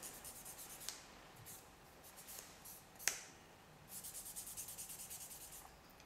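Nail file rubbing gel off natural nails, a faint, steady scratchy rasping in short strokes, growing into a quicker rhythmic back-and-forth toward the end, with a couple of small clicks.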